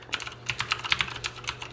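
Quick clicky keystrokes on a Cooler Master Masterkeys S tenkeyless mechanical keyboard with PBT keycaps and Cherry MX Blue switches, an irregular burst of crisp, close taps without voices.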